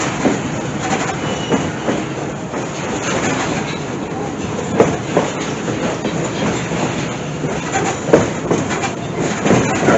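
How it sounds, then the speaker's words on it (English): A Lehigh Gorge Scenic Railway passenger train runs through Lehigh Gorge State Park near Jim Thorpe, giving a steady, loud rolling rumble with rhythmic clickety-clack of wheels over rail joints, heard close by with no talk. "So I'll be doing clips throughout our train ride."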